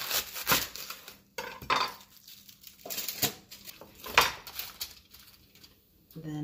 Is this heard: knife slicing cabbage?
yes